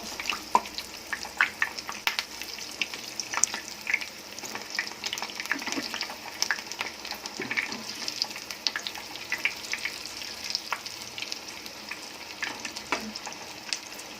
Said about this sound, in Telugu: ఇలా లైట్ బ్రౌన్ గోల్డ్ కలర్లోకి వచ్చేలా ఫ్రై చేసుకున్న తర్వాత మన చికెన్ వాళ్ళు రెడీ అయిపోయినట్టు.